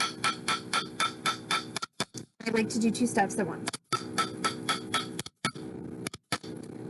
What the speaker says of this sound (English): So could I hit this with a mallet to round it out and then hammer?